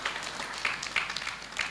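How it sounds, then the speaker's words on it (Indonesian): Applause at a university capping and pledge ceremony in North Sumatra, a steady, moderately loud crowd clapping in a large hall with a few brighter, nearer claps standing out. "beri tepuk tangan yang meriah dulu untuk Pak Yayasan"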